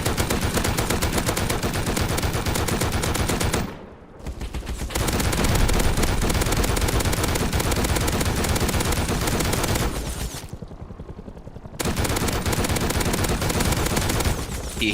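Dense, sustained automatic gunfire from a zombie survival video game, loud and relentless, broken by two short gaps before the firing resumes.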